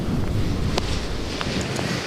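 Strong wind roars outdoors in a steady, loud buffeting rush against the microphone, with a few faint clicks and no speech.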